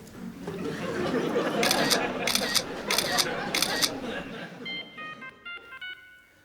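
A camera shutter firing in four quick, sharp bursts at a home gathering while people chatter nearby, followed by a short electronic ringtone-like melody.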